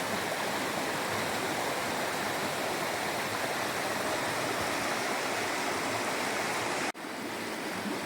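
Water in a Quinault rainforest stream rushes in a steady, full hiss that sounds close and constant, broken by one sharp click near the end.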